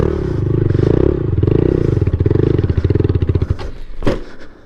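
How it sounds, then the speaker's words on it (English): A Honda Grom motorcycle engine chugging loudly and close during a wheelie, its rhythmic pulses slowing and sputtering before cutting out, followed by a brief clatter. "The bike stalled out on me."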